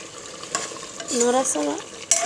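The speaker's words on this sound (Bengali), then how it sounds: "নতুন কুকারে মাংস রান্নতেছে" Meat being stirred inside a new, roomy pressure cooker: a spoon scrapes and clatters against the metal while the meat sizzles, with short grinding strokes and a sharp clink at the end, close and fairly loud.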